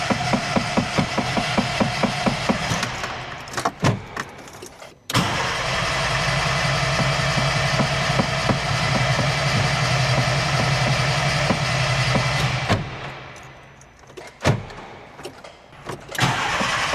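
A VW Gol engine cranks with rapid rhythmic starter pulses, catches and settles into a steady, loud idle that runs for several seconds before cutting out; a few brief knocks and clunks follow near the end, with no talking.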